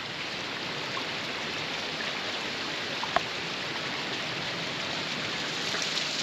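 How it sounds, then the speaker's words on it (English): Small waterfalls in the Swiss Alps give a steady, soft hiss of falling water, constant and fairly faint throughout with no voices. "Keep passing lovely little waterfalls where we keep topping up our water."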